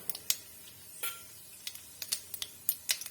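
Spices tempered in hot oil for chicken keema patties: scattered sharp crackles and pops, with a few light utensil clicks, spread irregularly over a faint background. No voices.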